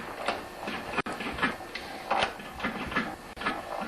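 A seized two-stroke John Deere BP65LE leaf blower engine, run without oil in the gas, being turned over by hand: stiff, uneven mechanical scraping and clicking strokes repeating close up, with no compression.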